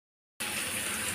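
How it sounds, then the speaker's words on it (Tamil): Water poured into chicken cooking in a pan for chicken handi, starting abruptly after a moment of silence as a steady, close gushing splash. "கொஞ்சம் கொஞ்சமாக தண்ணி ஊற்றிக்கலாம்"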